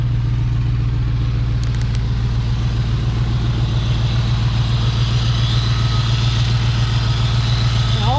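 Engine of a 1965 Dodge truck idling steadily, with a loud, close, continuous rumble and an even throb throughout, heard alone with no speech.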